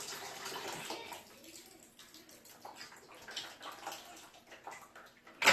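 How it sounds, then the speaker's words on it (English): Running water splashes and gurgles as an aquarium filter sponge from a Pennplax Cascade 1500 canister filter is rinsed, a steady faucet-like wash with shifting sloshes and a sudden louder splash at the end. "We'll rinse the sponge one out."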